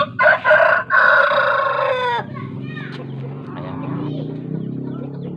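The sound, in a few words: fighting chickens, rooster crowing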